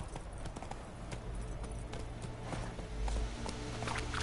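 Horse hooves clip-clop at a steady riding pace in a PS4 video game, with rhythmic, fairly close hoofbeats over quiet in-game ambience.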